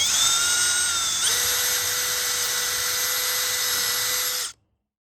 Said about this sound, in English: Okay, so I'm gonna drill the holes for this